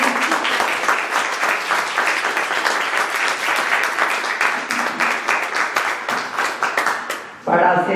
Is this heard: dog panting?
no